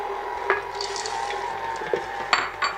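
A utensil stirs chocolate chip cookie dough in a mixing bowl, giving soft scraping sounds and a few sharp clinks against the bowl over a quiet background.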